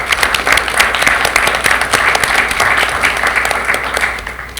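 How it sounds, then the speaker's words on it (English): Loud, sustained applause from a large audience at a school district board of education meeting, dense clapping holding steady before tapering off at the end. "Let's give them a round of applause."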